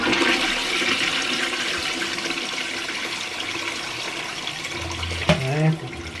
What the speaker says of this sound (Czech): Já jenom spláchnu.